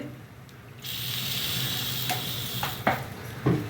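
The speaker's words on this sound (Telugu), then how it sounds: "మినపప్పు, ఆవాలు, జీలకర్ర, ఎండుమిరపకాయలు, వెల్లిపాయలు వేసాను." Urad dal, mustard seeds, cumin, dried chillies and garlic hit hot oil for a tempering, a sudden rush of loud sizzling that continues steadily with a few stirring clatters near the end, close and alone.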